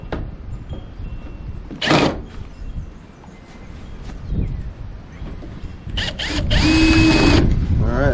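A power drill drives screws into trim on a Ford Ranger during an outdoor rebuild, brief whirring bursts that are loudest near the end, with someone talking and background noise throughout.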